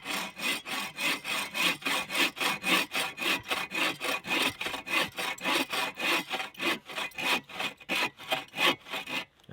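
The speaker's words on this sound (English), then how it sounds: "With the saw, make a little cut at a slight angle" A hand saw cuts an angled notch into a log outdoors, even back-and-forth rasping strokes, close and steady throughout with no talk.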